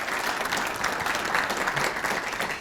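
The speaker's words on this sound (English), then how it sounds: "let's just give her another round of applause" An audience at a human relations awards ceremony gives a steady round of applause, dense even clapping from a room full of people, fairly distant and continuing throughout.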